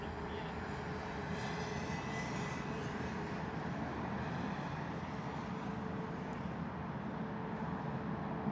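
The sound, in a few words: Airbus A319 taking off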